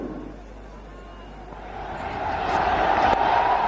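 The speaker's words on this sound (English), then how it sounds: "Listen to the crowd." Cricket crowd at a one-day international between India and South Africa in Faridabad, swelling from a low murmur into a loud, sustained roar of cheering after a boundary, broad and distant-sounding.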